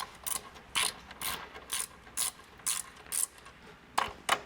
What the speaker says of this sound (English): So for the top nuts, we're going to be using a 14mm wrench.